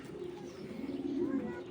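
A large male grizzle racing pigeon coos in low, steady murmuring pulses, close and fairly soft, with no talk over it.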